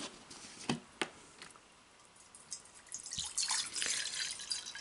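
Water poured into a Tibetan singing bowl, with a couple of sharp drips early on, then a brighter, steady trickle and splash building up near the end.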